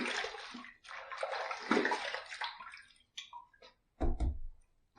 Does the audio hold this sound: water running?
yes